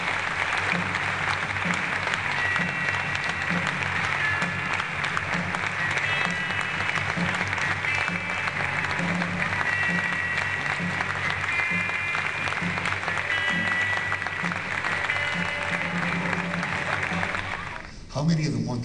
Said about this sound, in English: Please join me in applause and welcome Dr.